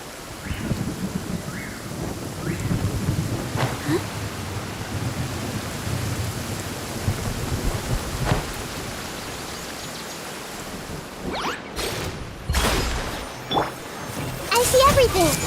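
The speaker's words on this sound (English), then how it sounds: "Don't stay out in the rain for too long." Rain and thunder in the video game Genshin Impact: a steady hiss of rainfall with low rumbles, then sharp thunder cracks near the end, alongside in-game voice lines.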